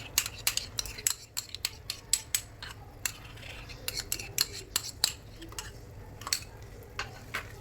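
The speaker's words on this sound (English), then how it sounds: "Now gently mix this yogurt on the prawns" Yogurt being gently mixed into prawns in a pot for biryani, light scattered spoon clinks and taps against the vessel, soft and close, with no talk.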